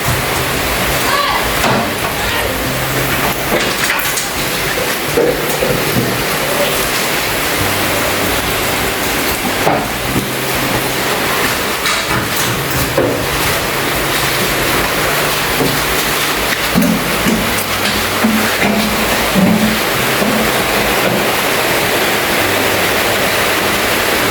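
Heavy rain pours in a steady, loud hiss that fills the whole stretch without pause, while people talk faintly beneath it.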